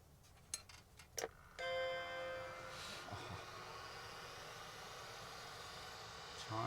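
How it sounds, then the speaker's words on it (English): A Macintosh II computer sounds its startup chime at power-on: a single sustained harmonic tone that rings out and slowly decays, preceded by a few sharp clicks, with faint room noise. "Yes, I got the chimes."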